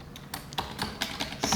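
Rapid keystrokes on a computer keyboard while alt text is entered into a Word 365 document, a steady run of close, crisp clicks with no voice over them.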